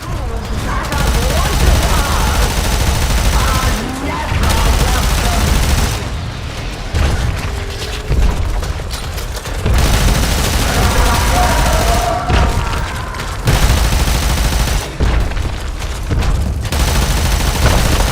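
Sustained gunfire in the sci-fi shooter Warframe, dense bursts of rapid shots and booms in long stretches separated by short lulls, loud and close, with a voice occasionally talking over it.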